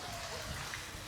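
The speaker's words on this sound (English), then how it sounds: "It's raining like crazy." Heavy rain falls outdoors in a steady, dense broadband wash, constant and fairly loud throughout the short stretch with no clear pauses.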